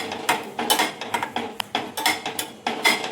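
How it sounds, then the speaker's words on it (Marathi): A spoon scrapes and clinks against a pan while one cup of semolina is stirred and roasted in ghee, in a quick, uneven rhythm of close metallic strokes. "या तुपामध्ये 1 वाटी रवा घेतलेला आहे, हे पण आपल्याला छान भाजून घ्यायचं आहे।"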